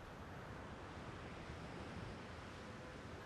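Ocean waves wash onto a shore in a steady, faint, continuous surf roar with a windy hiss and no distinct breaks.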